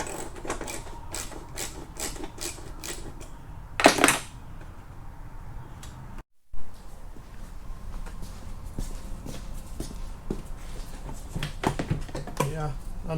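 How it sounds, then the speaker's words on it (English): A ratchet wrench working under a BMW during belt, hose, pulley and water pump repair: close bursts of rapid metallic clicking, with one louder clatter midway, amid workshop noise and a voice talking. "Yeah, I know, it was a ratchet."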